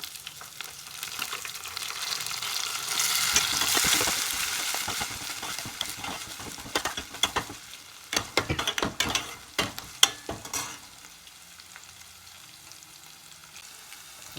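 Green chilies crackle and sputter in hot oil for a Malnad-style tomato gojju, a steady sizzle with bursts of sharp pops and clatter in the middle, no voices.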